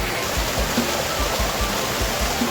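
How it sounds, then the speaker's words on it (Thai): Steady, loud rushing of a waterfall, a dense continuous roar of falling water filling the whole scene with no voices. "น้ำตกของแท้เลยครับ"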